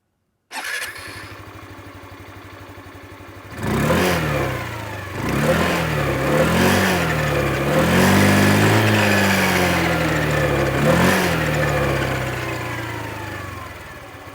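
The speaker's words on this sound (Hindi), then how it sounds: "आपको इसका एग्जॉस्ट नोट सुनाता हूँ" Hero Xoom 125 XTEC scooter starting up, then idling with a light buzzing exhaust, revved repeatedly in short rising bursts that climb to a sustained higher-pitched whine before settling back, heard up close.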